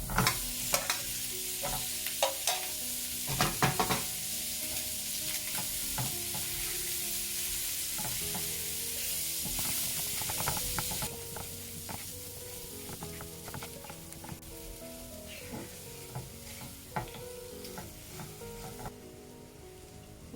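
Quail eggs stirred into a fragrant masala in a pan give a steady close sizzle and frying hiss, broken by repeated scraping and clinks of a spoon against the pan, with no talking.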